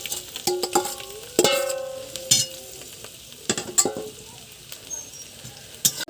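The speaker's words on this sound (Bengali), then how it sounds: "আবার একবার একটু ভালো করে ভেজে নেব।" Onion, chilli, garlic and egg fry in a pan for vegetable chow mein, a light sizzle punctuated by sharp metallic clanks and scrapes of a spatula at an uneven pace.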